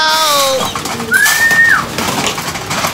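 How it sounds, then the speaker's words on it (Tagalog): Pigeons coo close by in a short, loud burst of soft throaty calls, with one clear rising-then-falling call in the middle, while the birds feed on scattered grain. "Tumutuka na yung mga kalapati natin."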